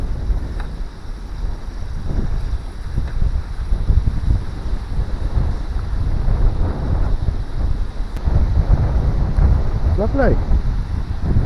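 Strong outdoor wind buffets the microphone on a countryside walk, a loud continuous low rumble with gusty swells, while a voice speaks briefly over it.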